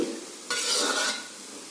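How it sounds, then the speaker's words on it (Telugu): Boondi batter hitting about 2 kg of hot oil, a sudden bright hiss that swells loud and steady for about half a second before easing back to a low sizzle, close and without talk. "2 kg ఆయిల్ పోసి మంచిగా బూందు చేయడం జరుగుతుంది"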